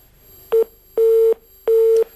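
A telephone line busy tone sounds after a call disconnects during a Hindi TV debate, three steady beeps, one short and two longer, loud and clear with no talk over them.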